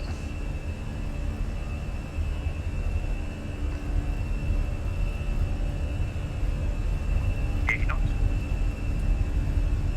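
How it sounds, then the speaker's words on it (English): Airbus A320 engines at takeoff power in Microsoft Flight Simulator 2020, a steady broadband roar with a faint whine, alongside a pilot's talk and a short beep near the end. "She likes to take off, bring the power. Takeoff power is set."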